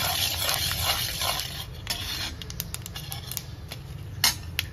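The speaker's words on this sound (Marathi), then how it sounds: "चांगलं मिक्स करून घ्यायचं, जरासं बेसन भाजून घ्यायचं याच्यामध्ये थोडंसं तेलामध्ये 2 मिनिटं" Besan roasting in a little oil in a pan while being stirred, with soft sizzling and repeated metallic scrapes and clinks of the spoon against the pan.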